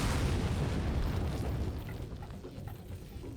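A flashbang grenade in the video game Resident Evil 4 goes off with a loud, broad burst that rumbles and slowly fades out, with no one talking.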